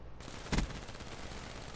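A single short burst of gunfire in a video game, a brief loud crack standing out over a steady background wash, no voices.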